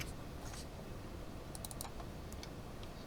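A computer keyboard taps out a few keystrokes while a number is entered in software, making faint, sparse clicks over a low steady room hum.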